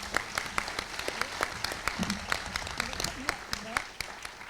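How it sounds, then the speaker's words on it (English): Audience at a talk on politics gives a speaker a round of applause, with distinct, fairly sparse claps sounding at moderate distance and a few voices murmuring underneath. "So please give a big round of applause and hear from Gargi."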